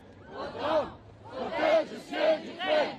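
A large protest crowd in Rome rallying for pressure on Russia over Ukraine chants in four rhythmic, swelling bursts, loud and unified, with brief gaps between them.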